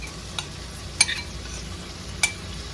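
Marinated vegetables stirred into fried masala for a vegetable dum biryani, a soft steady sizzle in the pan broken by three sharp clinks of a spoon against the vessel.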